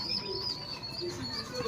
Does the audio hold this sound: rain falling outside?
no